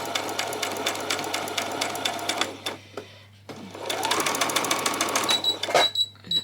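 Sewing machine stitching across an opening on a small child's peasant skirt: two close runs of fast, even needle chatter separated by a brief pause, with soft clicks and handling noise near the end.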